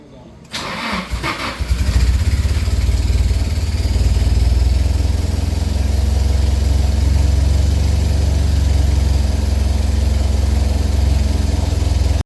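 Nissan SR20DET engine on its first start-up, cranking briefly, catching with a loud rise, then settling into a steady, deep idle that continues to the end.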